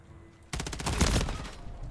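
A sudden loud burst of automatic gunfire in Call of Duty: Modern Warfare breaks a quiet moment, firing rapidly for over a second with no speech.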